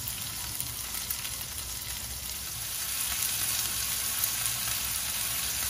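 A New York steak fries in a new pan, with its fat edge pressed down to render. The sizzle is steady and hissing throughout and swells slightly partway through.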